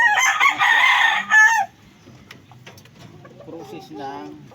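A gamecock rooster crows loudly and close, one long full call followed by a brief second burst, then quieter clucking and faint bird sounds in the background.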